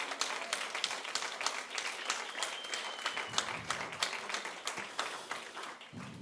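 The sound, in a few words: congregation applause in church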